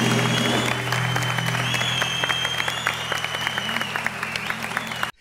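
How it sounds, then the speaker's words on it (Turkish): Studio audience on a Turkish TV talk show breaking into sustained, dense applause that holds steady and tapers off near the end. "Kocaman bir alkış hem bu ekibe hem de tüm emekçilerine alalım,"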